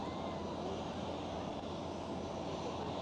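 A SkyUp Airlines airliner, a Ukrainian aircraft on lease, passes at Schiphol airport in Amsterdam, giving a steady, broad engine roar that stays loud and even throughout with no talking.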